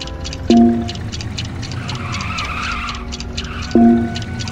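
Race cars skidding during the hot rod race in LEGO Indiana Jones 2, with two sharp, squealing tire skids over a steady engine hum and a rhythmic ticking in the background.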